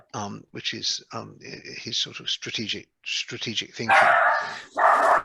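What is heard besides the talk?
dog barking in the background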